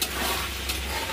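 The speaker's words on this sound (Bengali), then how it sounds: "দিয়ে এটাকে একটু ভালো করে নেড়ে নেবো।" Chili chicken with sauces being stirred in a hot pan, giving a brief, close burst of sizzling and frying hiss with the scrape of stirring, and no voice.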